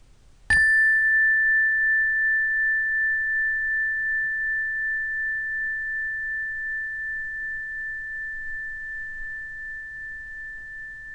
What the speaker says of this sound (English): I'm gonna play a bell noise and you're going to focus on the sound and think about when the bell sound ends